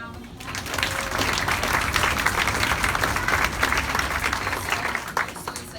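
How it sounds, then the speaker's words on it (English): A school orchestra audience at a Halloween concert gives a round of applause for helping seventh graders, a dense, loud wash of clapping that swells quickly and holds steady before easing off. "Give them a little round of applause."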